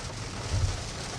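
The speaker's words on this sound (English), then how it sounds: "We've got quite heavy rain right now." Heavy rain falls steadily on a Rivian R2 car during a drive, a dense continuous hiss heard from inside the vehicle with a soft low rumble swelling briefly midway.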